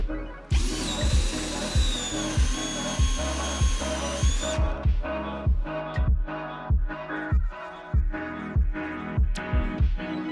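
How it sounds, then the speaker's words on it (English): A power drill whines loudly at first while drilling holes in a camper van conversion, then gives way to a steady series of rhythmic clunks and thuds, close by and repeating. "let's get to drilling some holes."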